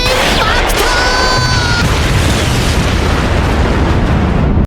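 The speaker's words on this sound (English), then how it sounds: "The giant hand shattered into pieces, and the explosion hit Pizarro hard" A loud, booming explosion roars and rumbles continuously, with crackling debris and rising whistling tones early on before it cuts off abruptly.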